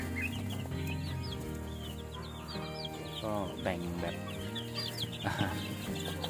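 Many one-to-two-week-old chicks peep in high, rapid chirps, close by and continuous, while someone talks over them and older hens cluck low underneath.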